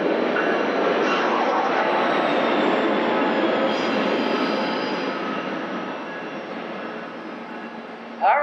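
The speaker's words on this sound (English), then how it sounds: "We're so grateful that this train is going by right now." A passing train rumbles steadily and loudly through a town in Hannibal, a broad sustained roar that slowly fades toward the end, with no talk over it.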